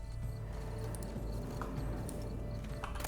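Horse hooves clip-clop in The Witcher 3: Blood and Wine, set in Toussaint, a quiet, steady series of light hoof beats over a low game ambience.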